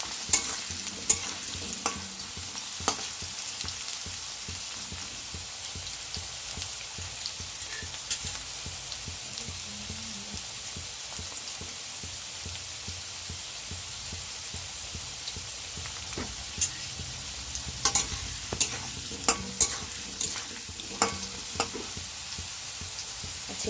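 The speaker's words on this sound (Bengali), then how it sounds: "আলুটাকে আমি মোটামুটি একটু নাড়ানাড়ি করে নিচ্ছি থেকে থেকে" Potatoes frying in a pan for a vegetarian banana-flower and mung dal dish, with a steady close sizzle and occasional scraping stirs, louder bursts of stirring near the end, no voices.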